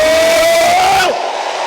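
A church congregation cheering and shouting together in a loud crowd roar with a sustained whistle-like cry, cutting off abruptly after about a second into a quieter room tail.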